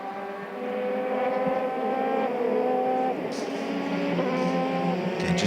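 Race cars at speed on a circuit, including the Teo Martin Motorsport car, give a sustained, loud engine drone with shifting pitch and a brief pass-by swell, with commentary-style talk faintly underneath.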